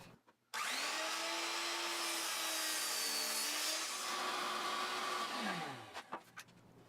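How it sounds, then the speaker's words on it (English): A miter saw cuts wooden cross braces to length for a step stool, its motor spinning up with a loud whine and a sustained cut, then winding down and ending with a few knocks. "Then I could cut all those to length over at the miter saw."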